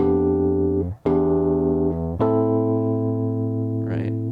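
Piano chords from a progression kept in one inversion, three sustained voicings changing in steady succession, close and clear with no voices.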